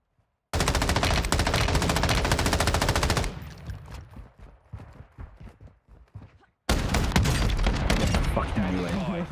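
Video game gunfire with a crossbow: dense, loud rapid bursts of shots that briefly thin out into scattered quieter shots, then resume at full intensity, with no talk.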